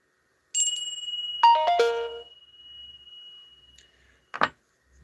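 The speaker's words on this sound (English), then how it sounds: "I'm going to give a ring of the bell for our friend Easy." A bell is rung, giving a clear metallic ding that sustains and decays over a couple of seconds, followed later by a brief sharp click, all in otherwise quiet surroundings.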